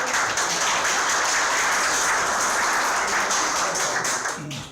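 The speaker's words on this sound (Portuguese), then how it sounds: "Salve de palmas." An audience at a talk on artificial intelligence claps steadily, a dense, even wash of applause that holds for several seconds and then tapers slightly at the end.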